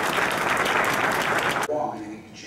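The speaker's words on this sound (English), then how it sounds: "How about a hand round of applause for DeForest Kelly?" Applause for actor DeForest Kelley at Chicago Comic Con 2013, a loud dense burst of clapping from a crowd that cuts off abruptly, leaving a quiet tail.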